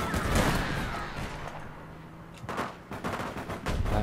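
Video game shootout on a street, with rapid bursts of gunfire, loud at the start and again toward the end, and scattered shots in between against a noisy battle background.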